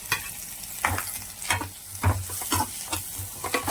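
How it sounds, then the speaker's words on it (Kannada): Onion, ginger and curry leaves fry in a pan for a spicy chicken pulimunchi. A steady close sizzle runs throughout, broken by repeated scraping stirs about every half second. No one speaks. "ಈರುಳ್ಳಿ ಕೆಂಪಾಗುವ ರೀತಿ ಹುರಿಬೇಕು"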